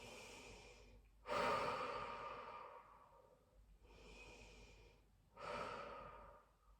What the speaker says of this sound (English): Have a couple of nice deep breaths there.